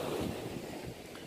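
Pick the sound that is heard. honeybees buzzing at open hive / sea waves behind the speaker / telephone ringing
sea waves behind the speaker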